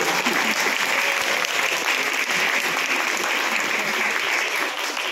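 Audience applause at a seminar and awards event, a dense, steady clapping from a large crowd sustained loudly for about five seconds.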